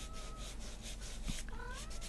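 A kitten meows softly and faintly, a short rising cry followed by a second thin mew, close but quiet over a steady background hiss.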